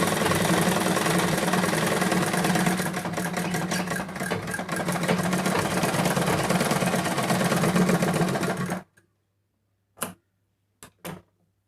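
A sewing machine stitches fabric for a hair band made from waste cloth, running in a steady rapid whir for several seconds, then stopping, followed by a few short isolated bursts.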